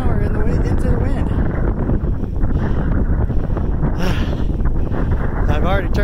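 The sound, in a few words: strong wind blowing into microphone during bike ride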